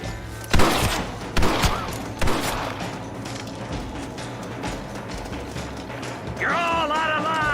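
Gunshots in the video game Red Dead Redemption: three heavy, booming shots about a second apart, loud and close over a busy game soundscape, followed by a steady mechanical hum and a rising tone.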